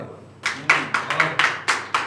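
Live audience at a Hindi poetry recital claps in a thin, uneven burst, with about six distinct sharp clusters of hand claps a little under half a second apart rather than full applause.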